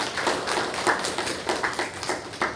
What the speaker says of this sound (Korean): 우리 하나님께 또한 영광의 박수를 올려드리겠습니다